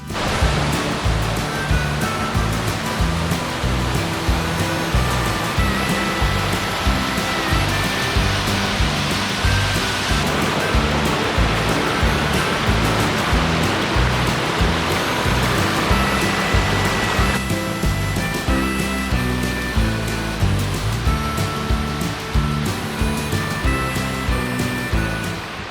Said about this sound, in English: this is still pretty impressive to get this close to the waterfall